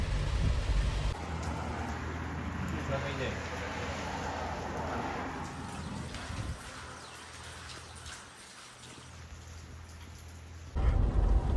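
Steady rain falls on a farm with a dense, even hiss that holds loud throughout, carrying a low rumbling undertone and briefly softening before swelling again near the end.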